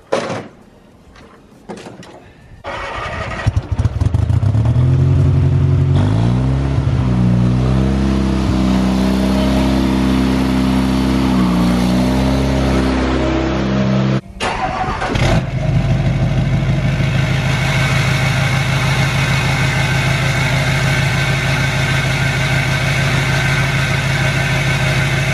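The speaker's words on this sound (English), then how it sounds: "so I just started the truck, gotta get her warmed up" A Duramax diesel pickup with its EGR deleted cranks and fires up after a few seconds, then settles into a loud, steady idle with a rev change midway, close by and with no talking.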